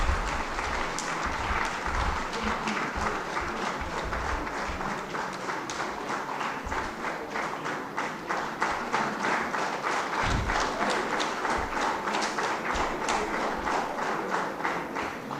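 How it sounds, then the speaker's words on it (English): Audience clapping at a company's vigilance awareness week valedictory function, steady rhythmic applause from a seated crowd, fairly loud and continuous throughout. "Clapping is a very good exercise."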